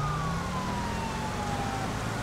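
Wailing police car siren in the video game GTA 5, a steady electronic tone sweeping slowly downward over a dense engine and road rumble, loud and close throughout.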